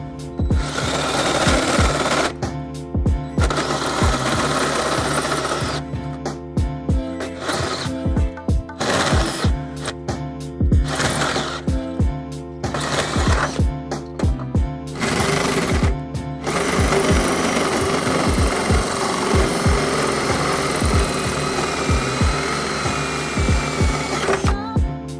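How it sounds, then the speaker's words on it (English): A power drill with a hole saw grinds into the metal frame of a 2016 BMW X1 in repeated loud bursts, stopping and starting, then running steadily toward the end. "I'm going to go ahead and drill into my pilot hole."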